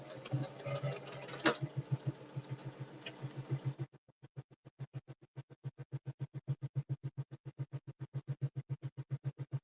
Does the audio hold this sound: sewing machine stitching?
yes